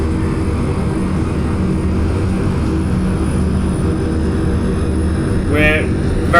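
A jet engine roars steadily at high power as an aircraft accelerates down the runway in a flight simulator game, loud and continuous, with a faint high tone near the end and a voice talking briefly.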